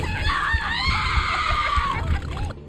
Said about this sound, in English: Wow, she screams